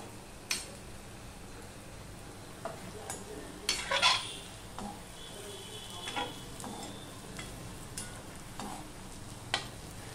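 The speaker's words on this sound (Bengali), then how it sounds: "আমি এটা মিডিয়াম করে ভেজে নেব, আর এইভাবে উপরটায় তেল দিও, তাহলে ভাজাটা ভালো হবে" Jackfruit kofta fries at medium heat in oil in a pan, with a soft, steady sizzle under occasional clinks and scrapes as the pieces are turned. No one speaks.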